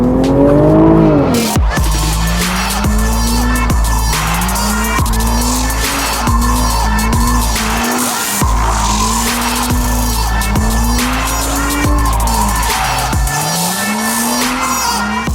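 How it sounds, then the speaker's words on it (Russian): Jaguar F-Type with traction control off, skidding through repeated slides: loud tire squeal in rhythmic arcs over a roaring, revving engine, close up, with no talk. "Так, если мы выключим антизанос. В занос ее поставить легко, потому что колеса достаточно тоненькие."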